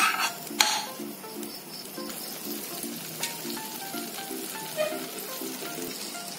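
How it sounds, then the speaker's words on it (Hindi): Butter heats in a kadai with a soft, steady sizzle and crackle close by, broken by a few light metallic clinks of utensils. "बटर गरम हो गया है, अभी मैं डाल दूंगी अनियन, फ्राई करूंगी बटर में ही"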